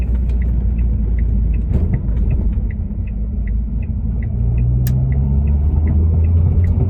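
A Ford Fiesta ST150 with a Whiteline rear anti-roll bar rounds a roundabout, its engine a steady low rumble from inside the cabin alongside road noise and a faint repeating ticking.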